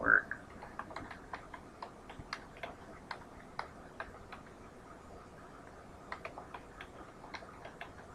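Keyboard typing of a router configuration command for OSPF in a networking lab, a steady run of light, quick clicks at close range with a few brief pauses, no talking.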